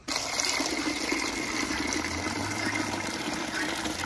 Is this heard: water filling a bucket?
yes